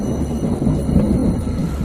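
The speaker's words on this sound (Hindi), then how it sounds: "पीपल की नरम नरम कोमल पत्तियों पर बारिश के कतरे गिरने से वैसी ही आवाज़ पैदा हो रही थी जैसे कि रणधीर" Rain sound effect in a radio drama, a loud dense rush of rainfall with low rumbling like thunder, steady and continuous with no voices.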